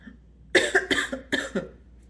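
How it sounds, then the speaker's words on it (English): A burst of several harsh coughs, close and loud, in quick succession after a short quiet pause. "I just had like a coughing fit out of nowhere."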